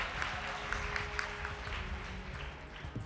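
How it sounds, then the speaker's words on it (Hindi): A quiz competition audience gives a fairly faint, steady round of applause, a diffuse patter of many hands lasting a few seconds with a murmur of voices underneath. "चलिए जोरदार तालियां।"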